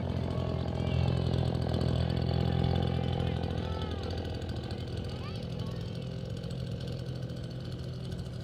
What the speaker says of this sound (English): That's a mighty big leaf blower he's got as he walks through broadcast as well.